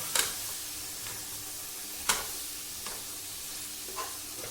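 Gram flour and chicken roast in a pan while a spoon stirs them, giving a few sharp scraping strokes over a faint, steady sizzle with no voices.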